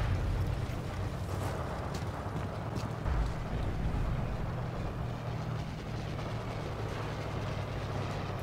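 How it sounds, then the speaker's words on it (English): Tank engine in Forgotten Hope 2, a multiplayer game set during the invasion of Crete, droning as a steady low rumble that holds throughout with no talk. "I can hear a tank."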